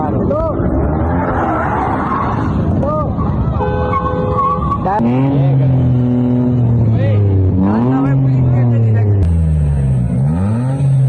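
A car drifting at a street meetup, tires squealing in long rising and falling skids over engine revving, with a crowd shouting and talking loudly throughout.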